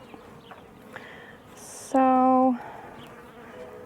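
Bees buzz around an open hive at close range, one loud droning bee passing the microphone briefly amid a quieter background hum, with a few spoken words.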